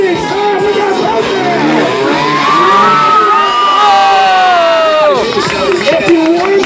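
Large outdoor crowd at a motocross stunt show cheering, whooping and screaming continuously at high volume, with many overlapping shrill voices rising and falling.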